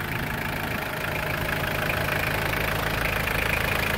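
A freshly overhauled Mitsubishi Pajero 4D56 turbo diesel engine runs steadily at idle, its close, even diesel clatter and knock continuing without a break.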